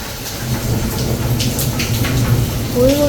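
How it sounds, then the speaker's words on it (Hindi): Heavy rain pours steadily in a dense, continuous hiss, close and loud, with a voice speaking briefly near the end. "बड़ी आवाज़, प्यारी तेज तेज बारिश हो रही है"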